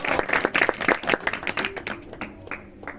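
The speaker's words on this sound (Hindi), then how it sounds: "इस बेटी के लिए जितनी जोर से क्लैपिंग हो सके करें" A church congregation claps for a girl, a burst of loud, uneven applause that thins out into scattered claps as it tapers off, with faint voices underneath.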